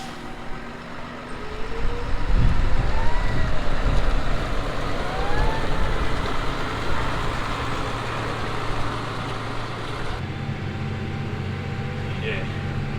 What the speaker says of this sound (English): We're just going to wait for the air pressure to build up on the air brakes.